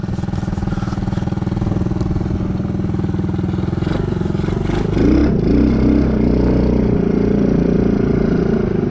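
An old 107 cc quad bike engine runs with a rough, clattery putter, idling steadily before revving up briefly and settling back, loud and close.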